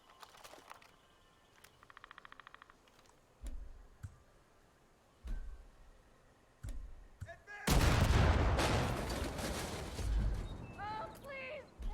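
Proximity explosives detonating in Far Cry 5: scattered thuds and clicks, then a loud, close blast with a long rumbling, crackling tail. A voice talks briefly.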